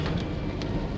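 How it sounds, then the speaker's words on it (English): Steady rain falls at a campsite, a dense, even hiss of drops with faint patters, close and continuous for a moment with no voices. "It is raining."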